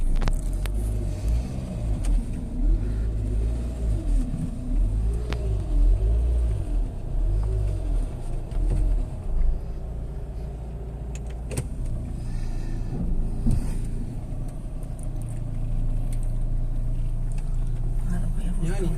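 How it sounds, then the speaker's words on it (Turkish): A car rolls slowly up a narrow cobbled street among the colourful houses of Balat in Istanbul, its low engine rumble steady and close, while people talk over it throughout. "Eyvah araba geliyor."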